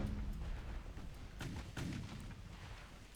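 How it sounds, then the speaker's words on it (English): Torpedoes launch as a salvo from a warship in the naval battle game Ultimate Admiral: Dreadnoughts, a few muffled booming thumps over a steady low rumble of sea and engine noise, with no voices. "There's the salvo of torpedoes."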